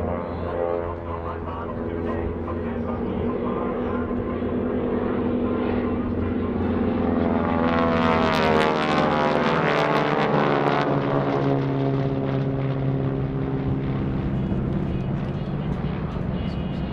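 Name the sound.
GEICO Skytypers propeller planes flying gun's jig maneuver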